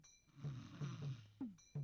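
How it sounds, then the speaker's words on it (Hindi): A person snores in a dubbed Hindi action film scene set at night near a large rock, giving several low, rasping breaths in a slow rhythm, close and fairly quiet. "तू इस तरह से खर्राटे लेगी तो मैं कैसे सोऊंगा?"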